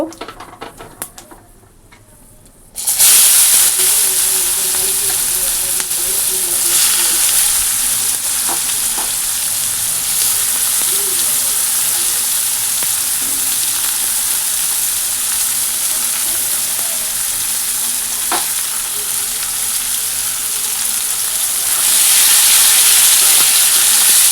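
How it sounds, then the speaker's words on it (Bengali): Onion frying in tempering oil with cumin for a meat curry, a loud, steady sizzle that runs continuously with occasional stirring clatter, starting after a quieter opening moment. "এটা দিয়ে দিলাম ফোড়নে পেঁয়াজটা দিয়ে দেবো"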